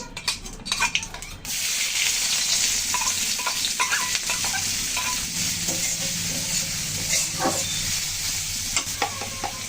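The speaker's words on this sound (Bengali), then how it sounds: "এখন এই তেলের ভিতরে আমি আলু ভর্তার জন্য পেঁয়াজটুকু আগে ভেজে রাখবো।" Onions fry in hot oil for mashed potatoes, a steady close sizzle with stirring and a utensil scraping and clinking against the pan, starting after a brief quieter moment and continuing throughout.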